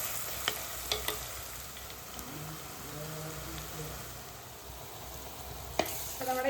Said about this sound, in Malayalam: ഇനി അതിന് കൂടെ തന്നെ നമ്മുടെ ചെറിയുള്ളി കാച്ചുകൂടി ഒന്ന് ഇട്ട് കൊടുക്കാം നല്ലതുപോലെ ഒന്ന് മൂത്ത് വരക്കാം